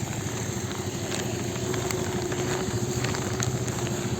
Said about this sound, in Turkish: Şimdi yağan yağmura aldırış yapıyoruz